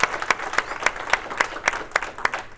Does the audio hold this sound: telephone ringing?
no